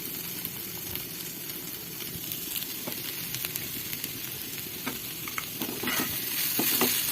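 Okra (bhindi) frying in a pan is stirred about, a close, steady sizzle broken by repeated scraping and clinking strokes of the spoon throughout, with no talk.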